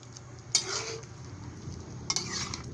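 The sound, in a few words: stirring and flipping chicken adobo with coconut milk in pan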